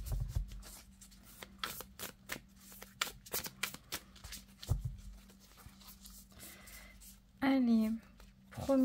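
Tarot cards are shuffled for a reading in a run of crisp riffling and flicking bursts. A person speaks briefly near the end.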